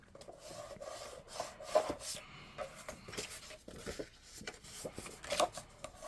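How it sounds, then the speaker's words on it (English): Paper score lines on a tri-fold craft album are burnished with a tool, giving repeated close scraping and rubbing strokes in an uneven rhythm, with no talking. "Burnish these really, really well."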